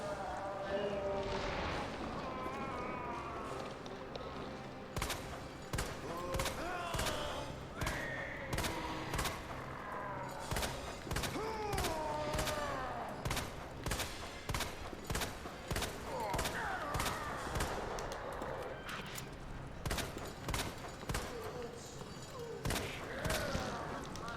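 Repeated gunshots in Resident Evil 2 Remake, aimed at a boss's head, sharp single reports spaced every second or two over a steady game soundtrack and ambient noise.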